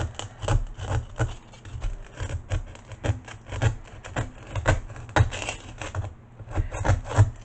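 Craft foam cut with steady strokes: close, continuous scratchy rasping and rubbing with regular soft thuds, a little uneven in rhythm, running throughout without speech.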